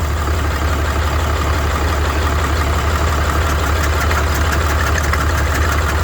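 A 2014 Ram 3500 pickup engine with 621,000 miles idles loudly and steadily up close after a cold start, a continuous rumbling drone with a faint rough knock.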